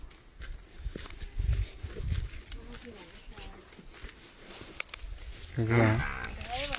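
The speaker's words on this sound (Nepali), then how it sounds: "भैँसी दुध दिने भैँसी" A milk buffalo lets out one deep, loud moo near the end, after quieter shuffling and footsteps, while people talk nearby.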